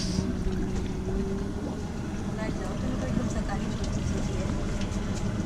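A boat engine hums steadily on a boat trip near Langkawi, Malaysia, a constant low drone mixed with wind rush over the microphone and faint voices in the background.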